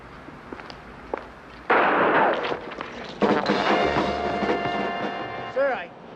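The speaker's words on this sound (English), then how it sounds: "Sir, I think somebody's shooting at you." Gunfire in a war-comedy movie scene, with sharp bursts and loud cracking blasts arriving in clusters over a noisy background, followed by a long sustained roar and some faint vocal sounds.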